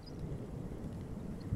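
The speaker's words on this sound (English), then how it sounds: "thunderstorm" Low, steady rumble of thunder and stormy ambience in the fishing video game Russian Fishing 4, a continuous dull roll with no distinct cracks, moderately quiet throughout.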